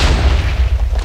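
Minecraft explosion, a loud close boom with heavy low-end rumble filling the whole moment, no voices over it.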